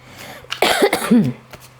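A short burst of close coughing, two or three rough hacks in a row, with faint background hum and no speech.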